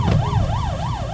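A wailing ambulance siren sweeps up and down in steady cycles after an air-raid alert in a Ukrainian city, loud and close over a low rumble of traffic.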